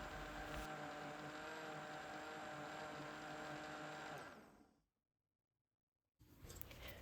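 A blender whirs steadily as it purées chickpeas with water, a loud, even motor drone that runs for about four seconds, cuts to near silence, then briefly starts up again.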